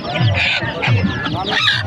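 Loud honking and cackling of ducks and chickens close by at a poultry market in Omarpur, overlapping calls in a busy, crowded setting.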